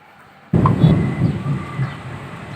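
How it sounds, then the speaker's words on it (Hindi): Thunder from an approaching storm breaks suddenly with a loud crack, then rolls and rumbles for about two seconds as it fades, with no voices over it. "कैसा तूफान है भाई, बारिश आएगी जोर से।"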